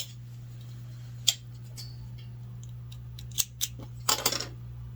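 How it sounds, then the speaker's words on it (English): Scissors snipping yarn to fasten off a crochet piece: a few sharp, close metallic clicks and snips scattered over a quiet hum, with a quick cluster of cuts at the end. "So I am going to use my scissors."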